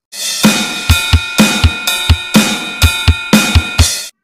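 A real drum kit plays a steady beat at normal tempo, with a kick, snare and ringing cymbal pattern repeating evenly over several bars, loud and close with no voices.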